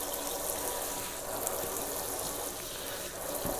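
Water poured gently and steadily onto peat moss in seed-sowing containers, a continuous close splashing flow with no talk.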